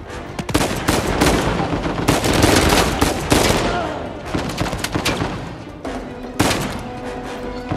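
Rapid bursts of gunfire in the video game Uncharted 4, loud automatic volleys and single shots coming in uneven clusters, with a voice speaking briefly between them.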